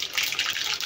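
Mustard seeds, half a spoonful, crackle and sizzle in hot oil for aloo-vangi bhaji, a bright continuous frying hiss close by with no talk.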